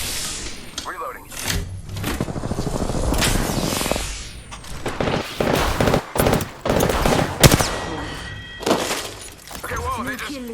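Apex Legends gunfire crackles in rapid automatic bursts and scattered single shots, loud and close, mixed with impacts, game callouts and a player talking over the action.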